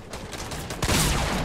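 Burst of rapid gunfire in the Fortnite video game, several loud overlapping shots crowding together near the end of a brief moment, with no talk over it.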